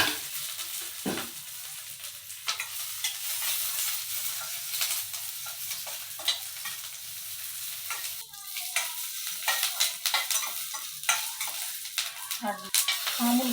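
Green chillies sizzle and crackle in hot oil for peanut chutney, a steady close frying hiss punctuated by stirring scrapes and clicks in the pan.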